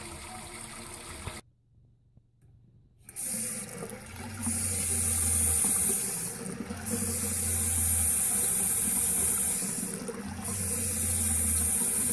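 A 12-volt pump fills a 1000-liter water tank buried underground, giving a steady hissing rush of water interrupted by a brief quiet gap, with a low motor hum that surges on and off in regular pulses.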